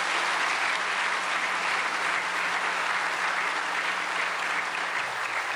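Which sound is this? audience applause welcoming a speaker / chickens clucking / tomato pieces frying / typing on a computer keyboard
audience applause welcoming a speaker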